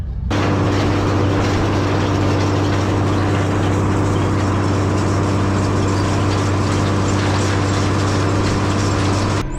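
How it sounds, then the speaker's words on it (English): A tractor engine runs steadily at close range while harrowing a rough, ridged sandy field, a continuous loud droning hum with constant rumble and no talking. "You guys can see the tractor bouncing around quite a bit"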